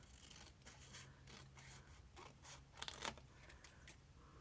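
Scissors snip through material in a woodland setting, a series of soft scraping cuts with a brief louder burst of snipping near the end, close and quiet with no talking.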